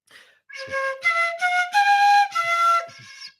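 A short, bright fife melody of several clear notes, played alone with brief breaths between phrases.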